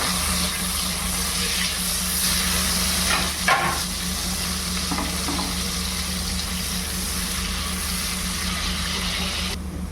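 Sliced onion frying in hot oil to make crisp browned beresta for a prawn korma, giving a steady close sizzle throughout with a few brief louder crackles and no talking.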